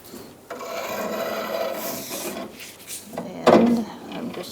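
An exhaust clamp used as a lever to pry the lower control arm out on a 2012-2017 Hyundai Accent 1.6L, producing a sustained grinding metal rub followed by a sharper scraping clunk, close.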